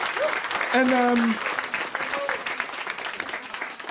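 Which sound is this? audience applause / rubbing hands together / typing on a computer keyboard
audience applause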